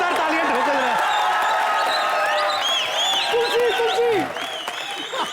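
Loud, sustained applause from a studio audience at a comedy show, dense clapping mixed with cheers and whoops, fading slightly toward the end.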